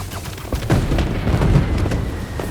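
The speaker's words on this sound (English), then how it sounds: "The fireworks! They're lit!" Fireworks go off in a video game as a dense stretch of low, rumbling booms and crackling bursts that keeps on loudly for a couple of seconds.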